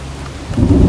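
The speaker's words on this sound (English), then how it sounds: "Well, looks like a storm's coming." A thunder and rain storm in the Heavy Rain video game builds from a steady rain wash into a loud, deep rumble of thunder that swells near the end. No speech is heard.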